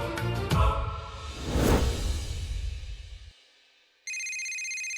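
A telephone rings in a domestic scene: after a swooshing sound effect and a quiet gap, a steady electronic ringtone starts abruptly and keeps sounding, clear and prominent.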